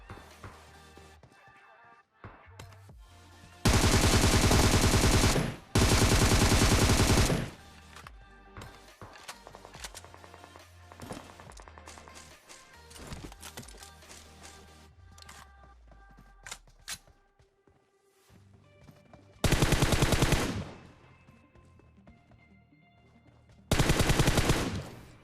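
Automatic gunfire in PUBG during a fight around shipping containers, with four loud sustained bursts standing out against quieter game sounds and scattered clicks.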